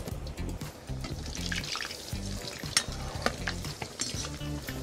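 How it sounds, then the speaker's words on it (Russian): Potatoes sizzle and crackle in hot oil in a kazan, a continuous frying hiss with occasional sharper pops and stirring, fairly close. "Жарим прям до хорошей золотистой корочки."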